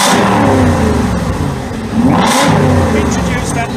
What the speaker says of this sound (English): So let's just repeat the revving.